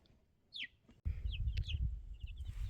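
Small backyard chickens moved from an indoor bin to a bigger outdoor space, giving a few high chirpy calls over a loud rumbling, windy background, with no talking.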